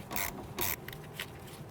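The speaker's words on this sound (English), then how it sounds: "They use a 12mm socket. We want to go ahead and loosen and remove this nut." A 12mm socket on a ratchet loosens the brake hose union nut at the front strut of a 2008–2013 Infiniti G37, with two sharp, close mechanical bursts followed by softer, scattered ticks.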